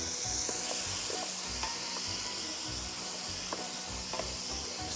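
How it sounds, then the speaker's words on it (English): Tomatoes with basil sizzle and crackle in a frying pan while being stirred, with soft scrapes and clicks over a constant close hiss. "Stir them a little bit."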